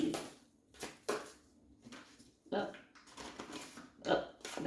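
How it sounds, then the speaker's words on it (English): Oracle cards are shuffled in several quick, soft riffling bursts, close and fairly quiet, with pauses between them. "I'm going to shuffle again."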